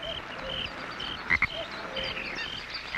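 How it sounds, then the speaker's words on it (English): Frogs croaking in a wet outdoor setting, several calls repeating over a constant background chorus, with a couple of sharper, louder croaks standing out nearby. "Frogs come in all sizes."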